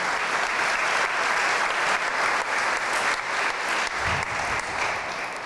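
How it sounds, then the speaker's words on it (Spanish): Steady, dense applause from a large audience for a speaker at an international forum on economic, social and cultural rights, loud and sustained throughout with no pauses. "Un aplauso, por favor, para nuestro ponente."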